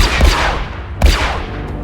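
Blaster fire in the Star Wars: The Old Republic video game, two loud sharp energy shots about a second apart, each with a bright crack and a ringing, descending tail, no voices.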